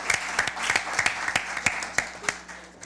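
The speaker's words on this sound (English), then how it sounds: "I want you to give them a round of applause." Audience at a junior science quiz competition in Antigua and Barbuda applauds a school quiz team, a steady wash of clapping with a few sharper nearby claps standing out over about three seconds.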